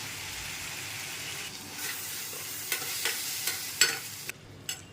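Tomatoes and coriander sautéing in a pan for a lake fish curry give a steady close sizzle, with a few sharper stirring scrapes and clicks near the end.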